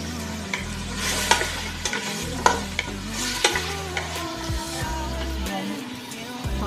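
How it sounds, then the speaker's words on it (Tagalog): Bean sprouts and vegetables fry and sizzle in a pan while a utensil stirs and scrapes against the metal in irregular clacks, close and fairly loud. "Unahin muna natin iprito ito"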